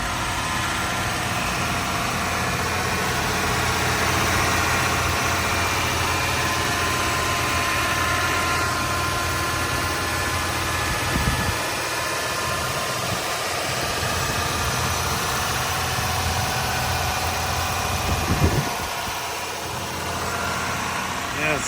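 The V8 engine of a Toyota Crown Royal Saloon idles steadily up close with a low, even rumble that holds for the whole stretch, broken only by a couple of brief bumps.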